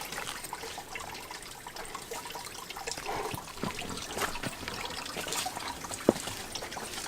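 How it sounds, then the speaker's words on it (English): Water trickling in a natural stream on a hiking trail at Santinho, Brazil: a soft, continuous babbling and gurgling of shallow flowing water, faint and close, with a few brighter splashy drips and no voices. "Natural na tubig yan, hindi yan sa phone."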